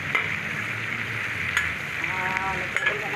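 Filipino pork adobo cooking with red and green chili, ginger, garlic and onion, stirred in a frying pan: a continuous moderate sizzle with scraping strokes of a spoon and a few sharp clinks against the pan.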